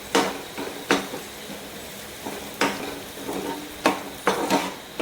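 Onions with salt and turmeric being stirred in a pan, with a low background sizzle broken by repeated scraping and knocking strokes of a spoon against the pan at an irregular pace.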